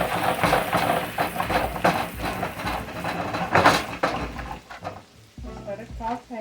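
Onions saute in a pan on the stove with a busy, crackling sizzle and scraping stirs, loud and close, easing off near the end as a voice speaks briefly.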